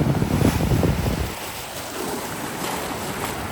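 Sea waves and gusty wind on a coast of Japan, a loud rushing surge of surf with heavy wind buffeting the microphone, easing to a steadier wash.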